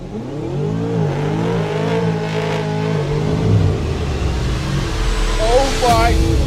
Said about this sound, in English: This car is an absolute maniac. Listen to that exhaust.